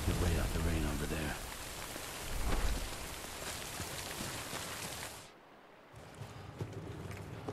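Heavy rain in the video game Death Stranding, a dense loud hiss of falling drops that briefly drops off near the end before resuming, with a voice talking at the start.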